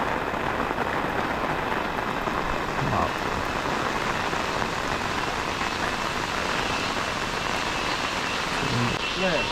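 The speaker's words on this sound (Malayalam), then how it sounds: "കനത്ത മഴ" Dense, steady downpour drums continuously on surfaces nearby, with a couple of faint voices briefly audible beneath the rain.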